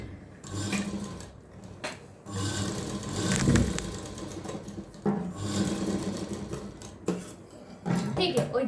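A sewing machine stitches a strip onto a blouse sleeve in short whirring runs separated by pauses, close and fairly loud, with a person talking in between.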